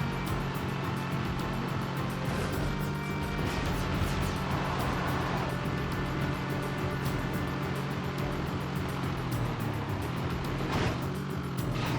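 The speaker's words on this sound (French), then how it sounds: "j'ai bien fait de prendre ce véhicule, il va quand même bien plus vite" A vehicle engine in Jak 3 roars steadily throughout, a constant loud drone with occasional surges and whooshes as it speeds along, no voices over it.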